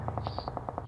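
A burst of rapid automatic gunfire from the BGMI mobile battle game, about eight evenly spaced sharp shots in under a second with a slight echo and no talk over them.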